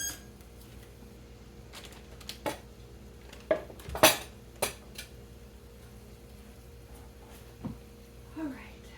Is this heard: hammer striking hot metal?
no